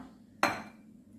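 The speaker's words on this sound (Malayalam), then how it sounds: "നമുക്കൊരു പാത്രം എടുക്കാം" A single metallic clank of a cooking pot or pan being picked up in a home kitchen during paneer biryani preparation, one sharp near clatter with a brief ring, otherwise quiet.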